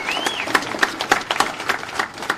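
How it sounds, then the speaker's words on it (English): Scattered hand claps from a small audience at a media briefing, uneven and moderately quiet, with individual claps standing out rather than a full ovation. "I think Imputka SG deserves a bigger round of applause."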